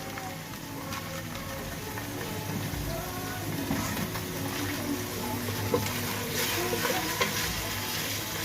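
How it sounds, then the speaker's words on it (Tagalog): Pork browns in a pan with crushed peppers, giving a steady, close sizzle with scattered crackles and pops that build slightly over several seconds, with no talking. "So cook the pork until it's brown."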